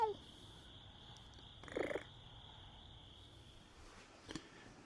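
A cat purrs softly and steadily at close range in a quiet room, with a short mew partway through and a faint tick near the end.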